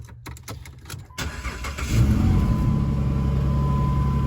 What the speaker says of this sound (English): So once we got all these tight, I'm gonna start the car.